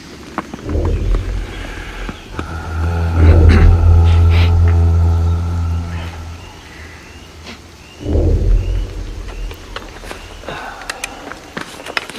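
During a thunderstorm, deep thunder rolls in two heavy, rumbling swells about five seconds apart, over a steady background of rain and storm noise.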